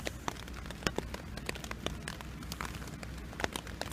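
Rain falls steadily at a chilly trail campsite along the Ohio to Erie Trail, a soft continuous patter with sharp individual drop hits scattered throughout.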